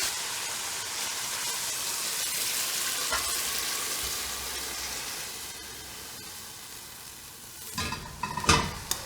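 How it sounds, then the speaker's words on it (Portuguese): Beef frying in a pan for a stroganoff, a steady hiss of sizzling that fades slightly, then clatters and scrapes as the meat is lifted out. "Agora eu vou tirar a carne da panela"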